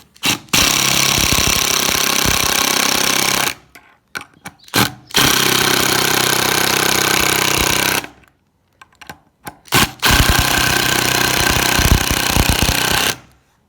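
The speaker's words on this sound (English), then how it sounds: "I'm going to drill some little 2mm pilot holes in here" Loud power drill whirring in three sustained bursts with short gaps and brief blips between, close by, no talking, drilling 2mm pilot holes.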